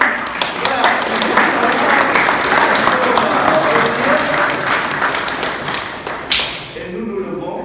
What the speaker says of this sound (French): Encore un applaudissement à eux